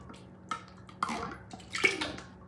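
Coconut milk poured for Puerto Rican coquito gives soft liquid splashes and a few light knocks, close and fairly quiet, with short gaps between them.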